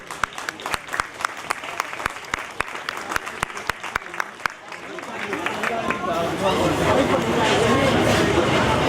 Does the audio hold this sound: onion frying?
no